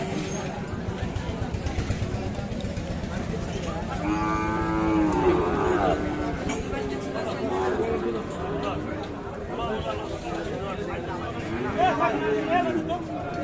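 Sahiwal bulls at a busy village cattle market, several loud drawn-out moos rising close by over a steady crowd murmur, with people talking throughout.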